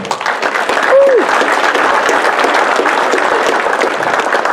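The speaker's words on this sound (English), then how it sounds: "Let's have a big round of applause for Ron Cartwright Jr." Banquet crowd applauding a racing champion at a motorsports park awards dinner, dense steady clapping from many hands filling the room, with a brief whistle near the start.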